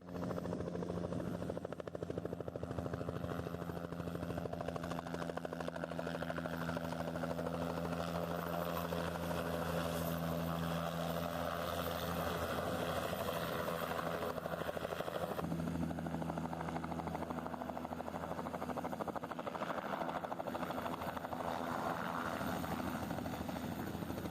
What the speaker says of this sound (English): We watched another helicopter land here as well